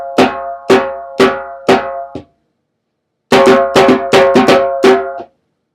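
Rapid slap strokes on an African hand drum, sharp cracking hits in quick bursts: a run of four, a pause, then a faster cluster of about seven, loud and close with no voice.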